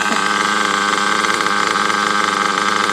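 A tuned race car engine with a single-stage setup idles steadily and loudly up close, a continuous rumbling drone with a slight lumpy pulse throughout.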